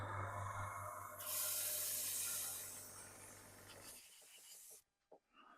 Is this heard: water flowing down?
no